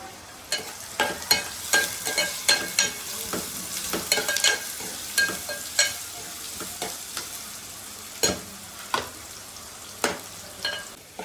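Thinly sliced onions with a pinch of salt fry in a pan for a potato kurma, a steady sizzle broken by repeated sharp scrapes and taps of the spoon stirring them, close and alone.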